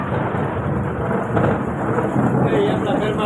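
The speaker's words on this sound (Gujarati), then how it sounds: "આવડા મોટા કડાકા" Loud thunder rumbling through a rainstorm in a village, a continuous heavy roar with rain hiss and a swelling crack partway through, close and dominant with no talk.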